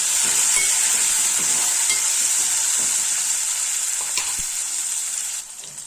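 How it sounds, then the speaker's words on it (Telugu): Mint and coriander are stirred into a pan of frying tomatoes, producing a loud, continuous close-up sizzle with faint scraping that eases slightly at the very end. "దానికి పుదీనా, కొత్తిమీర వేయాలండి. వేసి బాగా కలపాలి"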